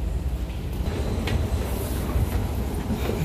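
A Delhi metro train on the airport express line running steadily, a dense continuous rumble with faint rattles and hiss, loud and enclosed from inside the carriage.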